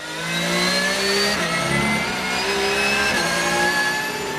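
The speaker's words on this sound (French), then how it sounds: "Excellent départ du poleman Marc Vechter sur sa Renault RS01 qui va tout de suite creuser l'écart sur le reste du peloton" Race cars, led by a Renault RS01, start a race at the Nogaro circuit, engines roaring loudly and continuously as they accelerate and shift up through the gears.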